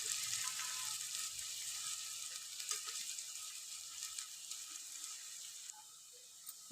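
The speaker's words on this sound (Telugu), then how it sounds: "ఆనియన్స్ అయితే మనం మంచిగా రెడ్డిష్ కలర్ వచ్చేదాకా మంచిగా ఫ్రై అయితే చేసుకోవాలి." Onions fry in a pan for mutton masala curry, a soft continuous sizzle with faint crackles and a few clinks of stirring, fading slightly near the end.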